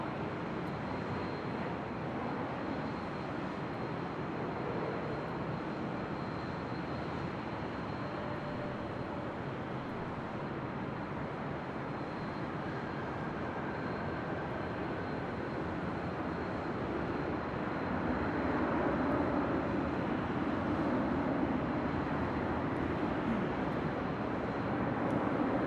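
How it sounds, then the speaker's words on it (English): A United Airlines Boeing 737-900ER arriving at Los Angeles International Airport, a soft, distant jet rumble that swells gradually and grows louder toward the end, over a faint background hum. "That was United Airlines flight 1275 coming in from Cancun, Mexico, and that 737-900ER."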